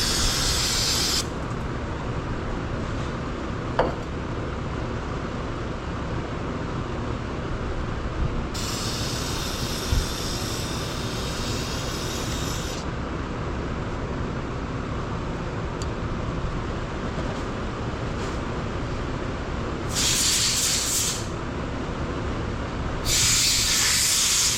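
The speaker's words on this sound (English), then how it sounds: "You spray some carb cleaner in it, you blow some holes out," Carb cleaner sprayed from an aerosol can in short and long hissing bursts, loud and close, with quiet gaps between.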